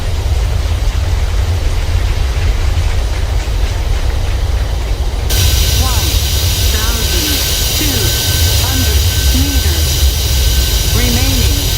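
Boeing 737-800 engines and thrust reversers during landing rollout in a flight simulator, a loud continuous roar that swells into a broader, harsher blast partway through, with a voice speaking over it.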